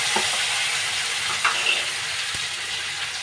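Finely chopped coriander sizzling steadily in hot oil, a continuous bright frying hiss with a few small pops and crackles, close and even throughout.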